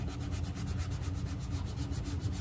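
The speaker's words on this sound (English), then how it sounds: "once I've trimmed the edges, I spend a little time in sanding that smooth" Quick back-and-forth rasping of sandpaper rubbing the trimmed edge of a leather shoe sole, a fast even rhythm at close range, fairly quiet.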